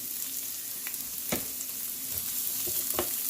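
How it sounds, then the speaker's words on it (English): Onion browns in hot oil on a keto Philly cheesesteak cook, giving a steady close sizzle and fry hiss with a few sharp stirring scrapes and taps standing out, no voices. "Now he's putting the onion, and he's going to brown some onion."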